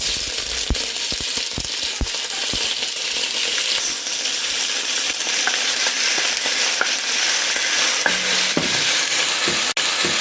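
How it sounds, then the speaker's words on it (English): Beef browning in hot oil in a large pot on high heat, with a loud continuous sizzle and crackle close up, punctuated by sharp metallic clinks and scrapes of stirring, no voices. "Once your oil is hot, add your meat."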